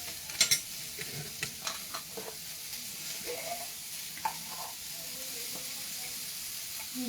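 Oil sizzles softly in a pan while chilli paneer cooks, a faint steady hiss broken by scattered crackles and a few spoon scrapes, with some quiet pops early on.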